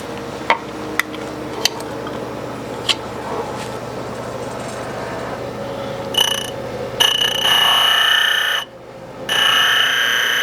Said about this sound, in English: now I'm gonna go over to the carbide grinder and resharpen it